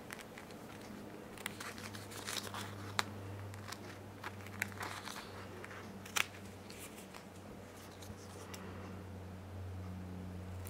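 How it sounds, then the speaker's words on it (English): Sharp scissors cut a glitter sheet in a series of quiet, crisp snips and crinkling rustles, close up and faint, over a low steady hum. "Very easy to cut your glitter sheet."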